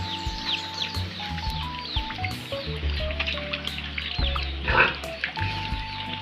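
Pet pigs grunt and oink close by at feeding time amid clucking chickens and chirping birds, with a steady faint hum in the background.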